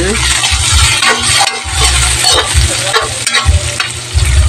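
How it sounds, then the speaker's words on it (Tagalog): Food sizzles and is stirred in a hot pan during a sauté in a home kitchen, with a loud, continuous frying hiss and scraping, close up. "May gisa-gisa ko na."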